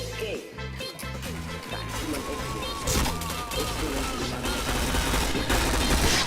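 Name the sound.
gunfire and headshots in PointBlank video game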